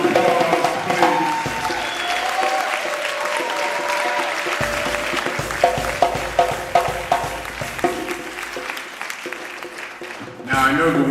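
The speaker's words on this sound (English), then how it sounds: "Can we give them a big round of applause, please?" An audience applauds young poets at a Black August commemoration event in Atlanta, steady clapping filling the room for several seconds with music and voices mixed in beneath it.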